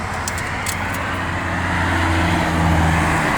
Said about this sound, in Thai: วันนี้เดี๋ยวผมพามาดูการจราจรปากช่องขาเข้าโคราชครับ